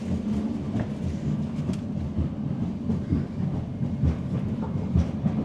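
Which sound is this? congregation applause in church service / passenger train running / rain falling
passenger train running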